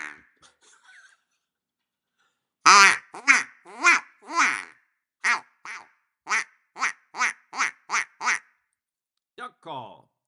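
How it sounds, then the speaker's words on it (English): Acme duck call blown in a run of short quacking bursts, close and loud, with a few faint sounds before and a final short quack after a pause. "this is actually an Acme duck call"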